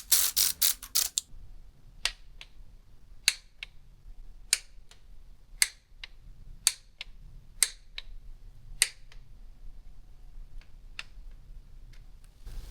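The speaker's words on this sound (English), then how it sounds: "now we just bring down all the bolts by hand" Bolts driven down by hand into the plastic PCV cover of a VW Golf R: a quick burst of close ratchet clicks, then sparse light ticks and clicks at irregular intervals, quiet and without talk.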